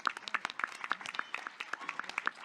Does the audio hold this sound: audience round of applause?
yes